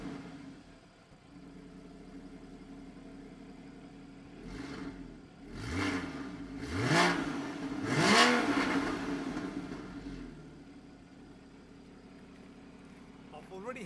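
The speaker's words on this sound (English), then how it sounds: "hear what it sounds like just firing up the engine" A Porsche Boxster 981 engine, already slightly warm, fires up and revs in several rising bursts, each climbing and falling back, before settling into a low idle rumble.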